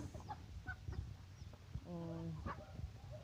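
Rhode Island Red chickens in a backyard coop cluck and call in short, close bursts, with one drawn-out squawk standing out above the low background noise.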